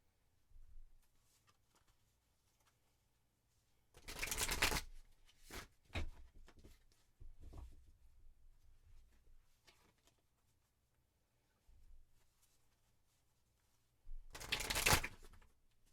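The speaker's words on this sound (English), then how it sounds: "I'm going to shuffle just a few more times." Tarot cards being shuffled by hand during a reading, heard as several loud riffling bursts with quieter handling sounds between them and stretches of near-silence.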